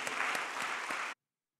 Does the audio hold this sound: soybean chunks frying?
no